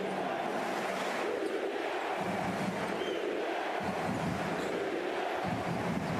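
Basketball arena crowd at Sinan Arena during a Türkiye v Ukraine FIBA game, a steady roar of many voices that swells and chants throughout, filling the whole space without a break.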